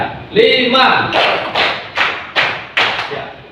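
A school class claps hands in a quick counted rhythm, about seven sharp claps in short bursts, with the group's voices mixed in.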